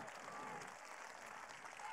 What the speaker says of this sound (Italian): l'applauso non fatelo a me, ma fatelo a lui